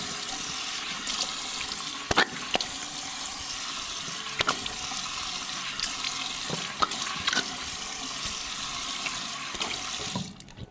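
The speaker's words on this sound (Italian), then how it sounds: "Scusate i tempi morti del risciacquo" Cold tap water runs steadily into a sink while someone rinses their face after shaving, with scattered splashes and cupped-hand sloshes over the constant flow before it stops at the end.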